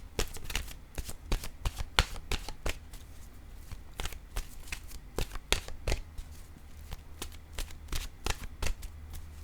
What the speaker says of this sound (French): Je pourrais piger une carte de mon oracle de l'âme intuitive pour faire changement.